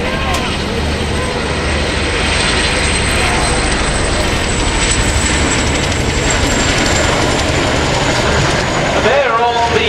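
An RAF Chinook helicopter at an air show at Waddington gives a loud, continuous rotor roar with a whining, rattling edge that stays steady throughout, while a commentator talks over it.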